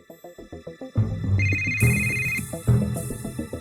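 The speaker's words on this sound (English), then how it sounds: "Your phone's ringing." A phone ringtone in a Yakuza video game plays as a bright electronic melody of rhythmic, repeating tones, close and clear with a bouncy pulsing beat and layered chimes, with no talking over it.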